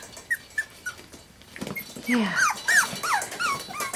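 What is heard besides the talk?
puppy barking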